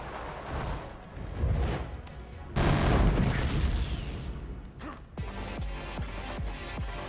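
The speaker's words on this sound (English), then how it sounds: "That was one very loud explosion." Very loud explosion in the Shinobi: Art of Vengeance video game, a heavy booming blast with a rumbling tail, followed by several sharp percussive impacts and game effects.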